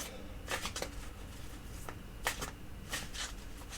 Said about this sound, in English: we pull from the Night Sun Tarot for the final 3 cards